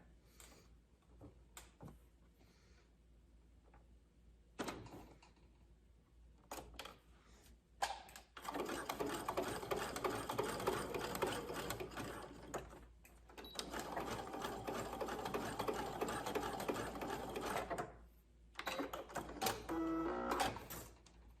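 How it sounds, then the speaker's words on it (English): Sewing machine running a zigzag stitch to join a loop of swimwear elastic, with a whirring motor hum in short starts, then two long sustained runs of steady rhythmic stitching, close up. "we're gonna zigzag stitch that together"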